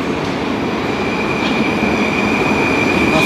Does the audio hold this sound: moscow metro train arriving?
yes